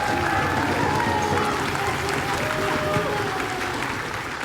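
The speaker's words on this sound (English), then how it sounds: "I'd love to just have a round of applause for these young people." An audience at a celebration event applauds young drummers, a dense steady round of clapping from a crowd, with some voices mixed in, fading slightly at the end.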